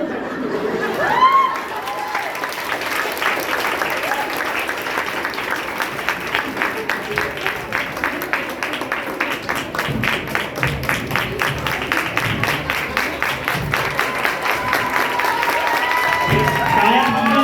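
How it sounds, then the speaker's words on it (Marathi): Audience applause at a Ganesh festival play, a crowd clapping in a steady, rhythmic unison beat that swells and holds for many seconds, with chatter and voices mixed in. "टाळ्या थांबवून नकोय"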